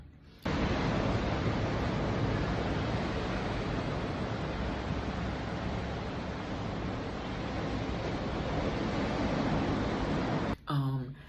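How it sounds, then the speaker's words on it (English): Ocean waves roaring at a beachfront, a continuous broad rushing surf noise at steady level that stops abruptly near the end, where a voice briefly speaks. "My favorite thing to do during the course of the day in between meetings is just watch the ocean roar."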